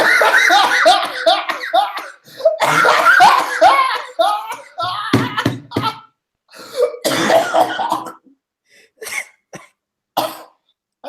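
Bursts of coughing mixed with laughter and loud talk among several men on a podcast, coming in uneven clusters with short pauses before trailing off into sparse sounds.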